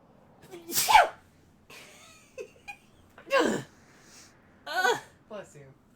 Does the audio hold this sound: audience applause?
no